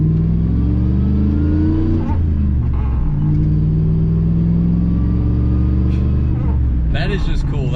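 Manual V8 pickup truck downshifting and accelerating from inside the cab, the engine note climbing, dropping at the gear change, then climbing again, with people talking over it.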